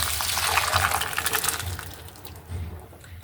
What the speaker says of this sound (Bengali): তো এখন আমার এই রাজমাটা আমি ঢেলে দিচ্ছি, রাজমার কলাইয়ের ডালটা।